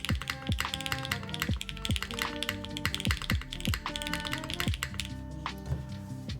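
A tenkeyless mechanical keyboard build with a 7-degree typing angle and about 18 mm front height is typed on in quick, steady bursts, producing crisp, close, clacky keystrokes with no talk.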